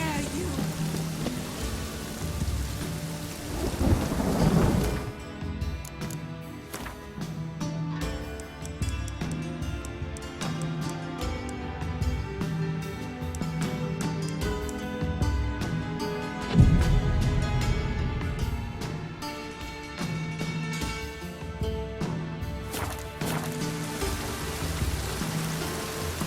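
Rain patters steadily on surfaces during a thunderstorm in the video game The Witcher 3, a continuous wet hiss with scattered drops and a low thump, beneath game music and occasional voices.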